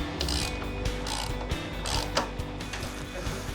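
A ratchet tightening a bolt during house renovation work, rapid repeated clicking strokes with short pauses between pulls, close and fairly loud with no talk.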